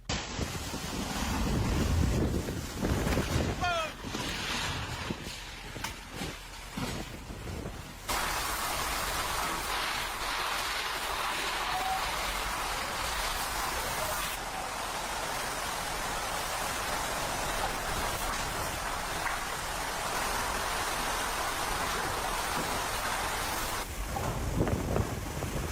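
A record-breaking storm batters Grenada with loud, constant roaring wind and heavy rain, a dense wall of noise buffeting the microphone throughout, with no distinct thunder.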